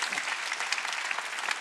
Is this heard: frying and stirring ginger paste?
no